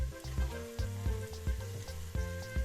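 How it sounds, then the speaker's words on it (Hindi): Garlic, ginger and whole spices fry in a pan with a steady sizzle, broken by regular scrapes and knocks of stirring roughly every half second, close and fairly loud. "लहसुन और अदरक को 2 मिनट भूनने के बाद हम इसमें कटी हुई टमाटर डाल देंगे"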